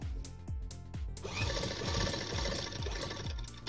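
A sewing machine runs steadily while stitching a blouse, with a fast, even mechanical whir and a regular thumping rhythm, close and fairly loud, with no talking.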